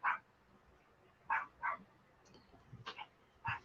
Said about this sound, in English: I got my dog barking